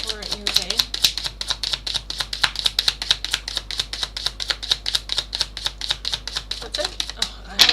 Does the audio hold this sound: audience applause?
no